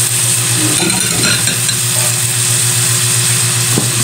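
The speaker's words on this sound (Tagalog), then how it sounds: "Para lang po maluto ang ating ampalaya. Lagay na rin po natin dyan ang ating mga napiling pampalasa." Bitter gourd (ampalaya) stir-fries with seasonings in a hot pan, a loud, close, continuous sizzle with scraping stirring and an occasional light utensil clink, with no talking.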